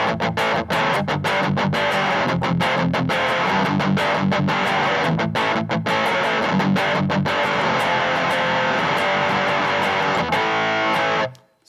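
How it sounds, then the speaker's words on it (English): An electric guitar run through an all-purpose distortion pedal built on a Trash Panda circuit, a thick saturated wall of fuzzy tone played steadily with picked attacks for about eleven seconds before cutting off. "It's one of my favorite all-purpose distortion pedals."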